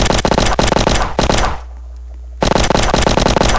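Rapid automatic gunfire in the Roblox game Prison Life, loud dense bursts of repeated shots with a brief pause in the middle before the firing resumes, no talking.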